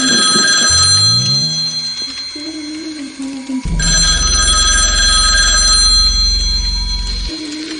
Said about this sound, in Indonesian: suara telepon berdering kembali terdengar